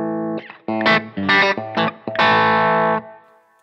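Electric guitar played through a JHS 3 Series pedal with the gain switch engaged, giving a loud, driven tone in a few separate strummed chords and sustained notes, with no talking.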